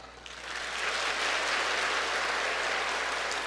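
A church congregation at a Sunday service applauding, a dense, even round of clapping that swells within the first half-second and holds steady, filling the room with no voices over it.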